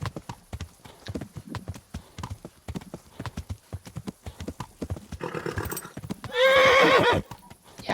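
A horse in the medieval game Kingdom Come: Deliverance clops along in a steady trotting rhythm, then lets out a loud, close whinny near the end, with the hooves continuing around it.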